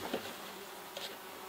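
Honeybees drone steadily around an open hive during a colony split, a close, continuous buzzing with a few individual bees flying past more loudly.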